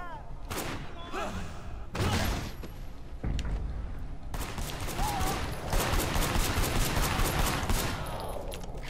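Enemy gunfire in Sleeping Dogs, rapid bursts of shots and thuds cracking through a game fight, growing into sustained automatic fire, with a voice shouting in between.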